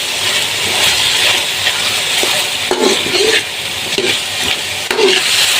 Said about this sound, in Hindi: और इसी तरीके से आपने चिकन को भूनना।